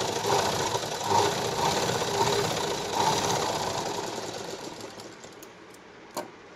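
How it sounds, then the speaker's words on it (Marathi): A sewing machine runs steadily while double-stitching a blouse sleeve, a close, fast mechanical whir with a faint rhythmic pulse that slows and fades to a stop, followed by a few small clicks. "आता याला डबल शिलाई घ्यायची परत एकदा."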